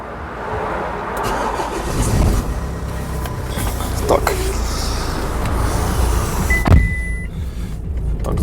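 A 2010 Renault Koleos 2.0 dCi diesel engine with 231,000 km cranks and catches, settling into a low idle inside the cabin, with a brief whir of an electric motor and people talking over it.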